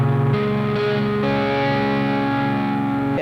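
Distorted electric guitar playing a chord from a song's riff with the sixth string muted, a few quick attacks then a held, ringing chord, loud and close with no voices.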